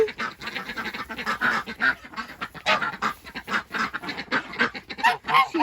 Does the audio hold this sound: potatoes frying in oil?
no